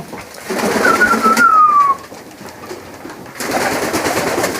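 Pigeons kept by a young Polish fancier, a few ringed, sound off in their loft at dusk, with a rising-falling call and coos close by over steady background noise.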